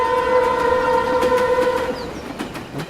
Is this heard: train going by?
yes